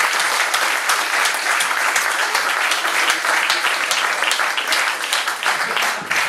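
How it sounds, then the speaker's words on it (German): Dense, sustained audience applause fills the room at a startup pitch competition, steady and loud from start to finish with no break. "Großer Applaus"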